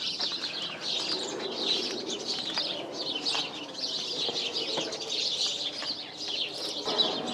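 Many birds chirp and coo overhead in a dense, continuous chorus, with occasional wing flaps and no talking.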